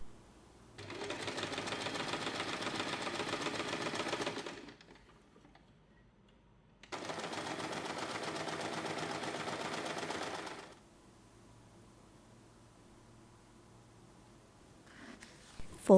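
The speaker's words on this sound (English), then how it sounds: "Sew along both sides to secure." A sewing machine runs in two long bursts, stitching along both sides of a folded fabric tab for a small snap-button keyring pouch, with a quiet pause between runs and faint handling noise after.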